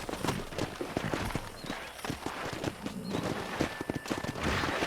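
Horse hooves thudding in Red Dead Redemption, an irregular run of fairly loud hoof beats against outdoor ambience, with a short whinny partway through.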